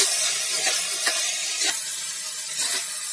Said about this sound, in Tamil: இப்போ காய்கறி எல்லாம் நல்லா மிக்ஸ் பண்ணி விட்டுக்கலாம்